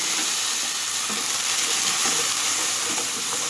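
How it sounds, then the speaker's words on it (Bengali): Ginger and green chili paste frying in a pan for Bengali vegetarian paneer curry, a dense, continuous loud sizzle and hiss with faint stirring, alone without voices. "এবার আমি আদা, কাঁচা লঙ্কা বাটাটা দিয়ে দেব।"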